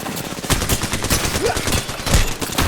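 Gunfire and a grenade shot during a 9v9 match in Apex Legends: loud, rapid bursts of shots crackle steadily throughout, with heavier blasts standing out near the middle and end.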